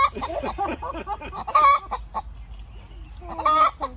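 Laying hens clucking close by, a run of short, busy clucks followed by a few louder drawn-out squawks with pauses between them.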